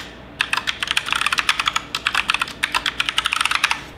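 Rapid typing of a DSRM password on a computer keyboard, quick clicking keystrokes in fast bursts, close and clear with no talking.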